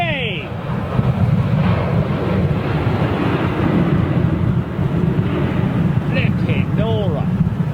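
Royal Air Maroc airliner touching down in strong crosswinds, a continuous loud roar of engines and buffeting wind noise across the whole span, with brief shouting voices near the start and end.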